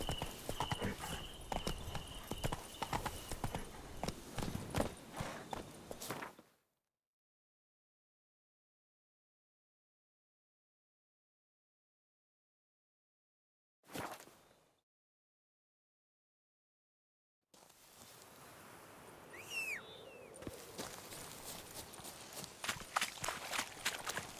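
A horse's hooves clatter in rapid rhythmic clip-clop during a gallop in the video game The Witcher 3, loud and close, cutting out to silence midway before resuming.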